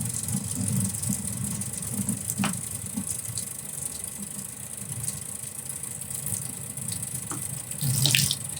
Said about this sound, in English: basically, we'll run the water nice and hot.